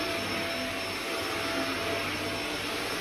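Vacuum cleaner running on matted carpet during low-moisture carpet cleaning, a loud, constant roaring whine that fills the whole clip without a break.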